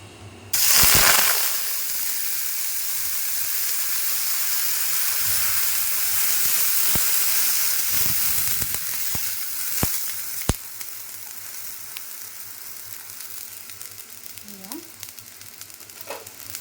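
Milk hits a hot wok greased with ghee over lowered heat and erupts in a loud sizzle, then settles into a steady close hiss with a few sharp clinks of a utensil.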